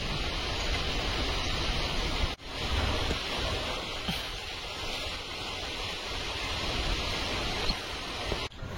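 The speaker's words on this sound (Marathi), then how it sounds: "वाराच वारा" Strong wind gusts roar steadily into the microphone ahead of rain on a village day, a loud broadband rush with brief dropouts, no speech.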